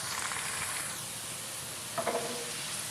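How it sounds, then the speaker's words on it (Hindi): Whole black peppercorns, cumin seeds, black cardamom and bay leaves frying with onions in oil for a beef matar pulao, a steady soft sizzle and hiss with a brief stirring scrape near the end, no talking. "प्याज के साथ फ्राई करेंगे।"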